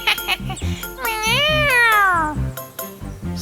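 A cartoon cat gives one long, loud drawn-out meow that rises and falls. Short bright jingles come before it and a few clipped sounds follow it. A voice may be imitating the cat.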